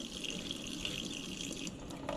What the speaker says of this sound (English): Keep wetting it. Gently scrub.